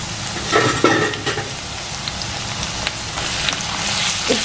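Onion, chillies and plenty of garlic fry in a home kitchen pan with a steady close sizzle and crackle, with occasional stirring scrapes, and no talking.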